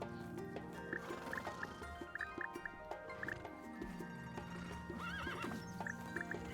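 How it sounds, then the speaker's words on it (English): Horses in the farming game Starsand Island, with several whinnies and neighs, one longer call near the end, over soft clip-clopping hooves and a layer of background music, fairly quiet overall. "Look at the ink horse, it's grown up."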